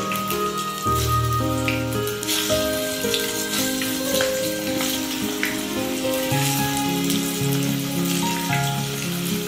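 Soybean chunks fry in hot mustard oil, making a dense, close crackling sizzle with scattered pops that runs steadily throughout, no voices.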